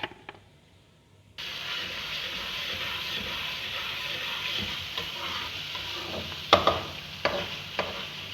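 Garlic paste frying in three spoons of oil, a steady close sizzle that bursts in after a quiet start and holds throughout, with a few sharper spatters and stirring clatters near the end.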